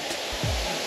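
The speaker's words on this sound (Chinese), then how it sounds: "听到瀑布的声音了" Steady broadband rush of the Yunshen waterfall, close and loud, a constant wash of falling water with a brief low thump partway through.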